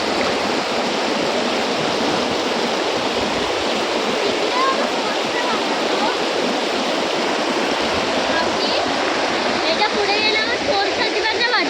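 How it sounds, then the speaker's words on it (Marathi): A powerful monsoon-swollen waterfall on a stream in a Konkan village roars as a loud, unbroken rush of water, with voices faintly audible beneath it. "बाप रे पाण्याला केवढा फोर्स आहे"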